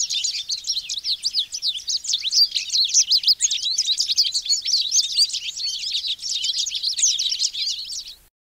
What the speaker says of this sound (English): American goldfinches sing a breezy, canary-like song, especially in spring.